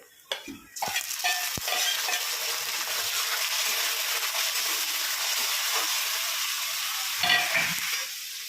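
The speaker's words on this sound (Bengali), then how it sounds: "এবার দিয়ে দিচ্ছি চিংড়ি মাছগুলো।" Small shrimp drop into a pan of lightly browned chopped onions with a few clunks, then a continuous bright sizzle that swells briefly near the end.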